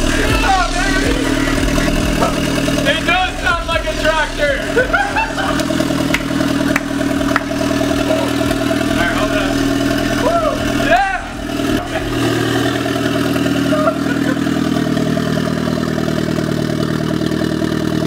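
A turbocharged Mazda Miata engine, started for the first time, idles and rumbles loudly and roughly nearby like a tractor, with clattery revving and voices talking over it.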